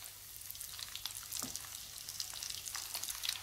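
Milk bread dough cooking in a pan on low heat, giving a faint, steady sizzle with soft crackles and no talking.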